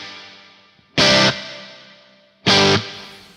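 Guitar through a Neunaber Immerse reverb pedal with the low cut at minimum: two loud strummed chord hits, each leaving a long reverb tail that slowly fades before the next strike.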